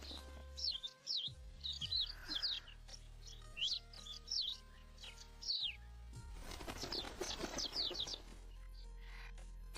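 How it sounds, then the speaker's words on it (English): A sparrow chirps in quick repeated bursts close by, with soft wing flaps and a fluttering rush near the middle and end, set against a faint low background hum. "This sparrow is clever and bold."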